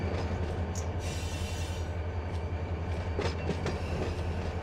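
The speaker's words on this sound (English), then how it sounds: "You hear the dynamics of a train going by." A train passes on the main line in the Run 8 railroad simulator, a steady close rumble of wagons with clickety-clack and brief wheel squeals over a constant low drone.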